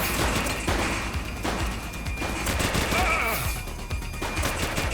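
Gunfire in a police crime simulation video game rings out as a dense, continuous burst of rapid shots layered with game ambience, loud throughout, with no pause.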